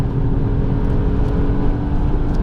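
A BMW 235i engine drones at full throttle around the Spa circuit, a loud, steady, close-miked rumble and whir heard in-car with no talking.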